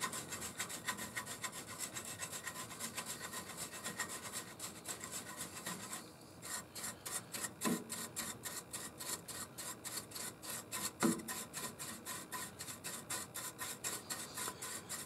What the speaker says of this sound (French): j'enlève le surplus à la brosse